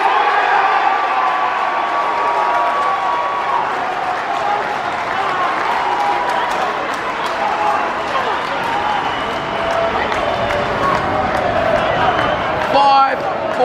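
Crowd at Marvel Stadium during a close AFL match between the Western Bulldogs and Geelong, a constant roar with rising cheers over the final quarter, and commentary talk running throughout.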